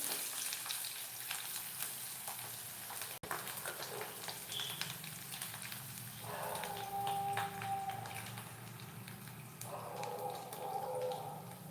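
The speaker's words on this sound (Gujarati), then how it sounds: "જીરું નાખશું બટેટા નાખશું" Cumin and potatoes frying in a pan, a steady soft sizzle with occasional stirring scrapes and clicks, one sharp tap early on, no talk.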